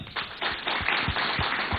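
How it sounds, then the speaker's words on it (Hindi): Audience applause for actor Ajay Devgn at the Agenda Aaj Tak event, a steady wash of clapping hands with a few louder distinct claps standing out, close and moderately loud. "जोरदार तालियां इनके लिए एक बार।"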